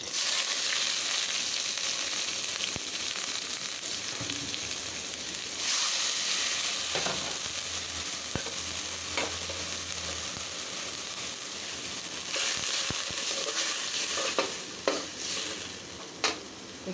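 Small baim (gochi) fish and spices fry in hot oil in a pan, a steady broadband sizzle with occasional stirring scrapes throughout, fairly loud and close with no talk.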